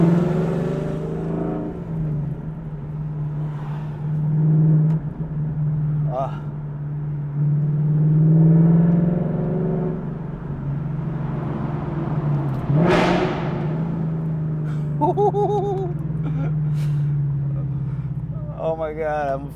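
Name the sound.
car with Corsa Extreme active valve exhaust revving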